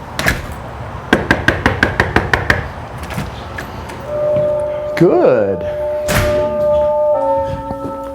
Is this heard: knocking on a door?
yes